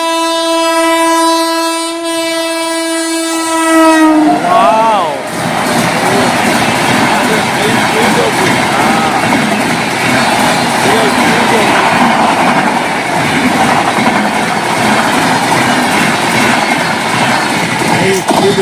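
A goods train arrives and passes with a long, loud multi-tone horn blast, then a continuous heavy rumble and clatter of wagons rolling by at full speed close at hand, with people talking under the noise.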